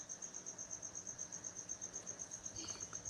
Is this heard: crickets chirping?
yes